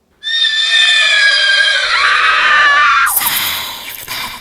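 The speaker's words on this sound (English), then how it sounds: "I hear another sound, the approaching of a horse and cart." Horse-and-cart sound effect from a haunting-themed audio drama: a loud, close horse whinny rings out for about three seconds, then breaks into a sharp, bright burst of noise, with no speech.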